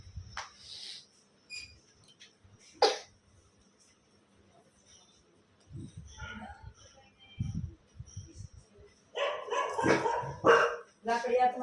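Dog barks come in several bursts, spaced irregularly through the clip, mid-distance and moderately loud, with background voices and household sounds around them.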